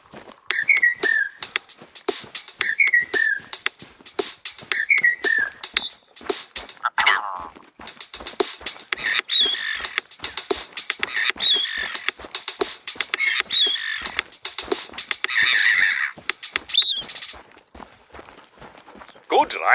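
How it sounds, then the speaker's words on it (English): Short chirping bird calls from The Hunter: Call of the Wild, chopped and looped into a quick rhythmic tune with clicking percussive beats, whistled phrases repeating over a dense, busy mix. "We recorded the call of some birds and made this"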